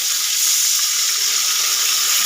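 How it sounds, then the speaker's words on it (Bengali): Masala paste fries in oil after a splash of water for a Bengali fish curry with vegetables, giving a loud, continuous, steamy hiss with no talking. "আমি মশলাটা ভালো করে কষে নেব"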